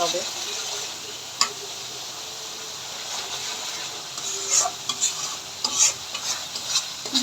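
Quail egg curry is stirred in a frying pan, a steady close sizzle with scraping strokes and small clicks of the spoon that grow busier toward the end.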